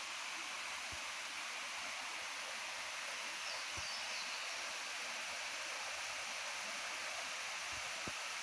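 A small waterfall on the Natchez Trace in Tennessee gives off a faint, even hiss of falling water that holds steady throughout, with a few soft low thumps.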